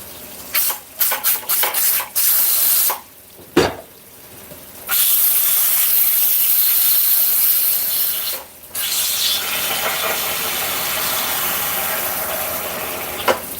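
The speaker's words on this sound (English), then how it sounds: "I'm just letting out the steam out of it while run some hot water over it" Hot tap water running over a hot lidded pot of braised beef short ribs while steam is let out, with clattering handling noises early on and then a long, loud, hissing rush of water.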